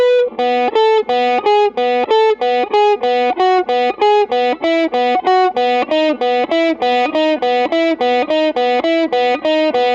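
A distorted electric guitar plays a fast riff, evenly spaced, sharply picked notes, steady and loud throughout with no talking.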